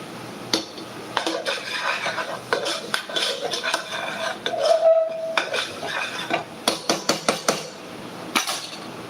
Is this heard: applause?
no